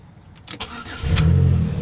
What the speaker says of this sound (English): started the car right up